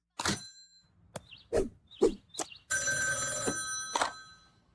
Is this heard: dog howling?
no